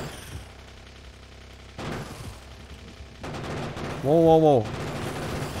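Gunfire in the Factorio video game comes as sustained bursts of rapid shooting that start and stop, loud and near, while a voice exclaims over it.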